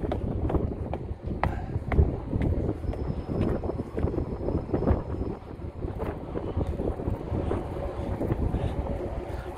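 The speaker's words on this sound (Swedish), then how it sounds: "Skön vind där." Wind blowing outdoors near a bridge on the way to a market, a continuous buffeting rumble across the microphone with scattered knocks and faint background activity, and no talking.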